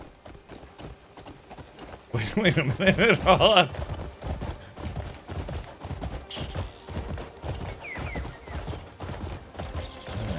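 Horse hooves clopping in the video game Crimson Desert, a steady galloping patter at moderate level beneath a voice talking over it.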